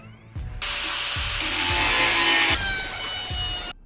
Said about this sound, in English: This is probably gonna suck with the grinder.